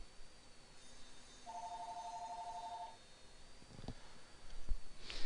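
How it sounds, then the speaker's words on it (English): Telephone ringing faintly indoors, a single warbling electronic ring burst lasting about a second and a half amid quiet room noise, followed by a few soft knocks. "Jared, the phone ring?"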